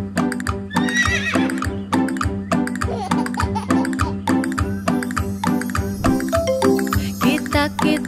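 A cartoon horse neighs and whinnies repeatedly over a bouncy children's song, with clip-clop hoofbeats and jingling bells woven into the steady, loud music throughout.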